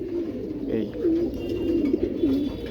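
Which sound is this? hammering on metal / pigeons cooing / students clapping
pigeons cooing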